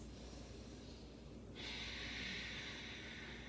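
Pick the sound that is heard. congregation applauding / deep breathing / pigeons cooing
deep breathing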